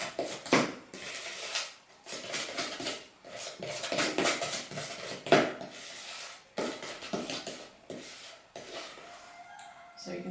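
Cocoa is mixed into cake icing in a bowl, with repeated scraping and clinking of a utensil against the dish in uneven bursts, close by, and no talking.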